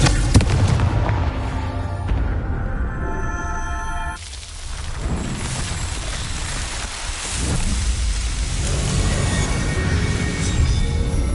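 A Confringo blasting spell erupts in Hogwarts Legacy, a loud rolling explosion followed by sustained crackling, rumbling debris and fiery noise that fills the space without voices.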